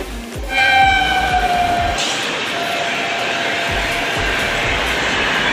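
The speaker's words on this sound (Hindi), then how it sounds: "हम जिस ट्रेन में आए थे वो ट्रेन तो जा रही है" A passenger train pulls out of a station with a loud horn blast at the start, then a steady heavy rumble and rolling clatter of the cars moving past, close and sustained.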